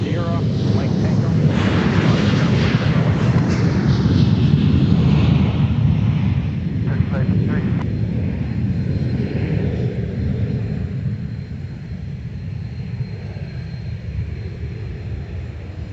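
Airliner jet engines roar steadily at MSP airport as planes taxi, a loud continuous rumble that slowly eases, with air traffic control radio talk over it.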